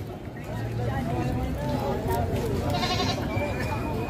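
Goats at a livestock market in Padre Garcia, Batangas, bleating repeatedly amid a busy crowd, the calls rising above steady background chatter and talk.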